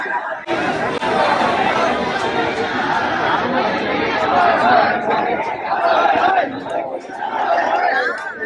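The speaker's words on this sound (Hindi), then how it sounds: "और इतना प्रोटेस्ट और इतना जनसैलाब मैंने अपनी लाइफ में कभी नहीं देखा" A dense crowd at a NEET student protest at Jantar Mantar, Delhi, a steady wall of overlapping voices and chatter that stays loud and close throughout with no single voice standing out.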